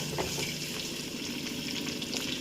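Green chili, onion and curry leaves crackle and sizzle steadily in hot oil, a dense, continuous frying hiss up close with no voices.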